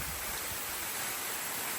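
A waterfall in Tujunga Canyon, California, swollen after rainstorms, gives off a steady, even broadband roar of falling water, heard alone with no voices.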